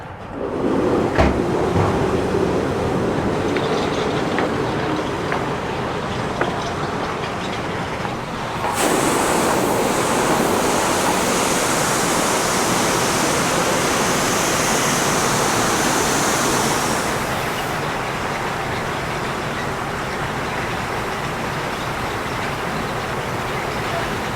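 Soybeans pour steadily into a grain bin during loading at a Tennessee farm auction, a loud, continuous rushing hiss that runs unbroken for the whole stretch, brightening partway through and then easing slightly toward the end.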